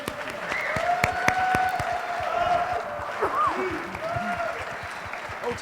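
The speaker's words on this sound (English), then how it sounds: "Please give a round of applause to Dr." Steady applause from a conference audience for a speaker taking the stage, moderately loud sustained clapping with scattered vocal calls and whoops rising above it.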